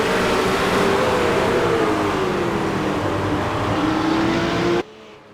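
A Ford GT race car roars past at speed on a racing circuit, the engine loud and sustained with a slowly falling pitch before cutting off sharply at the end.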